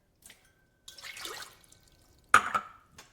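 A cup of water poured into a saucepan, a brief splashing burst midway and a sharper short splash near the end, with faint trickling before, close and fairly quiet.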